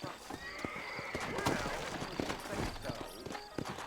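Hooves clip-clop in a quick, uneven rhythm while a horse whinnies in the video game Red Dead Redemption on Xbox 360, with a voice talking over the hoofbeats.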